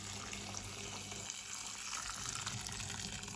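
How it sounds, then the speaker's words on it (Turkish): Hot boiled water poured steadily into a pot of soaked dried beans, a continuous close gushing and splashing stream with no talk. "ılıktan bir tık daha sıcak su ilave ediyorum"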